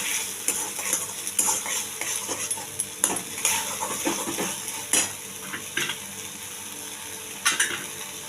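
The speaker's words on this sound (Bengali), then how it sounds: "জল দিয়ে কষাচ্ছি" Whole spices fry with a splash of water in a pan for Bengali prawn malai curry, a steady sizzle under repeated scraping stirs from a spoon, close and fairly loud.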